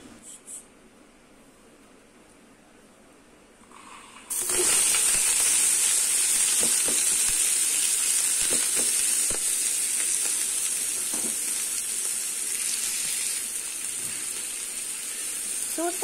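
Sliced onions dropped into hot mustard oil start a loud, steady sizzle that rises suddenly after a quiet opening and keeps frying evenly to the end.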